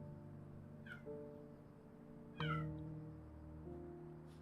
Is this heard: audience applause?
no